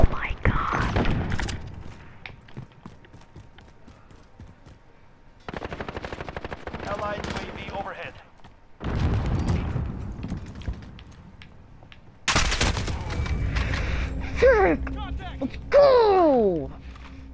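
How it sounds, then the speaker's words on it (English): Sentry gun bursts in a video game, several separate loud stretches of rapid mechanical firing broken by quieter gaps, with talk over parts of it. "Of course he has a sentry gun."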